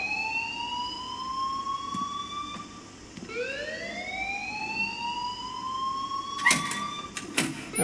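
A wailing electronic alarm rings in Life is Strange, its rising tones sweeping upward in long repeated cycles over a low background hum. A couple of sharp clattering hits sound near the end.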